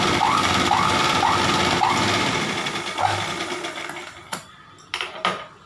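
Sewing machine stitching folded silk saree cloth, a close, rhythmic mechanical chatter with repeating squeaky accents that stops partway, followed by a few sharp clicks and handling noises.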